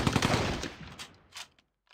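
An MG34 machine gun fires in a World War II tactical video game, a rapid burst of close, punchy shots that stops and trails off into echo, with one faint later pop.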